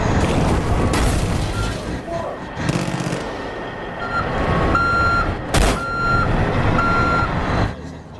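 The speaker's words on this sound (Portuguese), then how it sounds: "vamos entregar então aqui o caminhão, o Widowmaker, aqui. É só a gente estacionar aqui" In the Far Cry 5 video game, the Widowmaker truck backs up and parks. Its reversing beeper chirps in a loud, regular series over a heavy engine rumble, broken by a couple of sharp bursts near the middle, with no talk.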